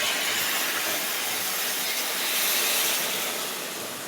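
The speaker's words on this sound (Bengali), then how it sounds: "আমার মাংসটা কষানো হয়ে গেছে, এই যে জল দিয়ে দেবো" Water poured onto hot sautéed chicken in a cooking pot bursts into a loud, steady, broadband sizzle that holds for several seconds and eases slightly toward the end, with no talking.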